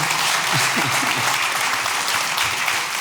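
Loud audience applause at a talk on intergenerational dialogue, a continuous wash of clapping with a few low voices murmuring underneath.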